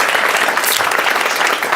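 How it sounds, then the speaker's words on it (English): Town hall audience in Santa Monica applauding, a dense steady wash of many hands clapping, loud and continuous with no voices standing out. "can we give a huge round of applause to our incredible..."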